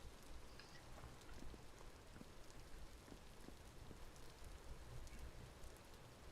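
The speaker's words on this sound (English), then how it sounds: "Nice rainy day." Steady rain pattering on surfaces in the survival video game Vintage Story, a soft continuous hiss with scattered droplet ticks, quiet and even throughout with no voices.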